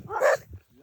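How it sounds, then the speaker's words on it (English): A single short dog bark in a high mountain setting, close and brief, with faint background noise. "Dogs are the security system out here."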